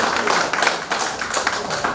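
An audience claps at the closing and certificate ceremony of a research proposal and journal writing training, a dense patter of many hands sustained throughout the short stretch.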